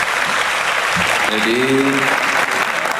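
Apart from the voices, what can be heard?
audience applause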